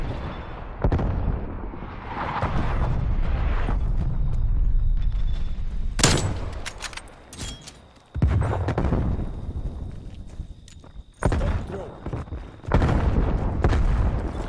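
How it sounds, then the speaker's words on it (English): Artillery strike explosions in Call of Duty: Cold War on the Nuketown map, with heavy booming blasts and rumbling impacts arriving in several bursts, loud and close, broken by brief lulls. "Artillery inbound."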